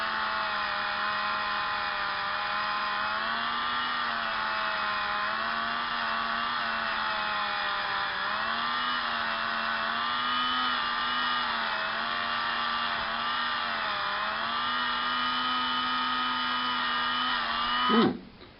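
A high-speed rotary tool spinning around 15,000 RPM while polishing Glock pistol internal parts gives a steady, loud whine with a sustained tone that wavers slightly, then cuts off abruptly near the end.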